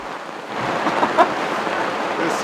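Steady, dense rain pouring down on a sailboat in a harbor, a continuous broadband hiss with a few sharper drops standing out near the middle.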